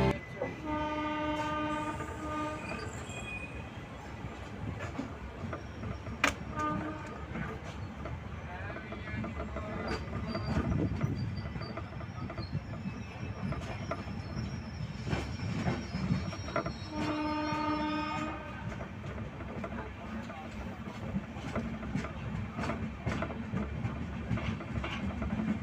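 Aboard the Mourya Express, a passing Sri Ganganagar special train crosses alongside with a steady rumble and clatter of wheels, punctuated by sustained horn blasts near the start and again later, while voices talk over it.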